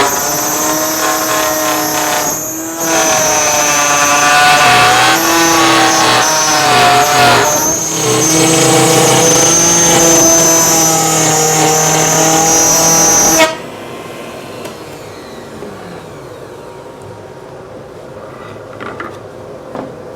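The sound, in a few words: power tool cutting groove in maple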